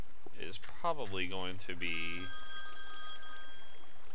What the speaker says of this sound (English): hang on a second, that's the phone